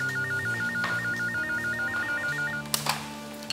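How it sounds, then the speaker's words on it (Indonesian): A mobile phone rings with an incoming call: a rapid warbling electronic tone repeating in short even bursts for about two and a half seconds, then stops, followed by a couple of faint thumps. "tadi handphone aku tuh ada yang nelpon"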